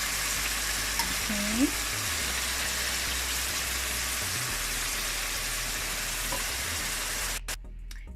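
Collard greens fry in a pan with a continuous loud sizzling hiss and occasional stirring, steady throughout before cutting off abruptly near the end.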